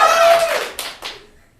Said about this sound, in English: y'all gonna clap